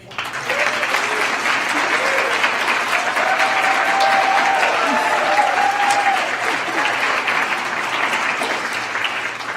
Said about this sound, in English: I would love to see with a great round of applause for Mi Casa staff.